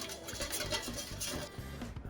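A spoon stirring dry yeast into water in a bowl, with soft repeated scraping and light clinks in an uneven rhythm, close and fairly quiet, no talking.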